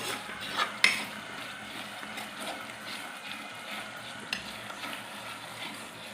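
Sardine curry boils in a pan with a soft, steady bubbling sizzle, close but quiet, broken by a couple of light clicks.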